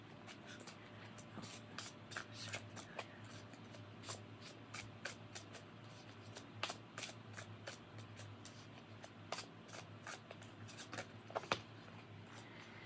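Tarot-style prophecy cards are shuffled steadily for a spiritual reading, giving a continuous papery riffle broken by sharp snapping flicks of card edges, close and fairly quiet with no talking.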